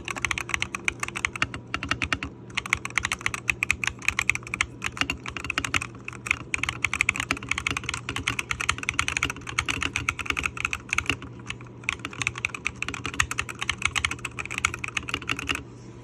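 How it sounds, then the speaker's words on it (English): Typing on a BOW keyboard fitted with Green Matcha keycaps, a dense, continuous run of close, crisp key clacks with brief pauses, heard alone without talk. "These are the Green Matcha keycaps. So let's try this out. Let's hear the sound test on this one."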